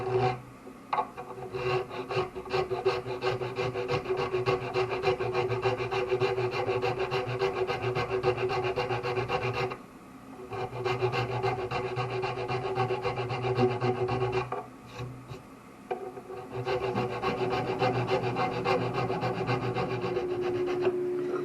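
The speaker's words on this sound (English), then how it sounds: "I'm going to try the file first." A metal file rasps across a wooden violin nut in steady, close back-and-forth strokes, continuous and loud with a few brief pauses between passes, no voices.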